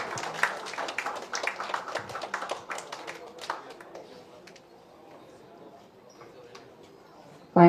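Audience applause for a guest called to the stage at a single album launch event, a dense burst of many hands clapping that fades after about four seconds into low room noise.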